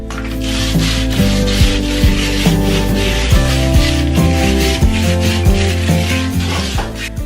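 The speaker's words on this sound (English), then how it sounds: "We're just gonna give it a light sanding" Continuous rough rubbing and scratchy grinding, like lightly sanding a painted wooden outdoor table, with repeated rhythmic strokes over a steady machine hum.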